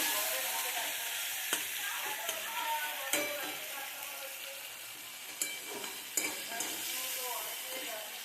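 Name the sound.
shrimp frying in pan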